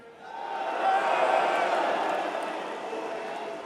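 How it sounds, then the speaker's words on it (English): A large arena crowd at The International Dota grand final boos in one sustained, swelling roar that builds over the first second, holds loudly, then slowly tapers. "May that be the loudest boo I've ever heard on stage while I'm there."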